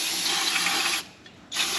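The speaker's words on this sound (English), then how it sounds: "Spray cleaner up in there." Aerosol brake cleaner hisses in long bursts onto the rear axle of a 2019 Ford F150 with a broken axle bearing, shaft and seal, one steady spray, a short pause, then another.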